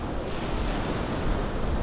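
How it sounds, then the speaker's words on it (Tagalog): Ocean waves along the coast of Ilocos Sur, a loud, continuous wash of surf blended with wind rushing past the microphone, steady and close with no voices. "Yan ang paligid, ang karagatan."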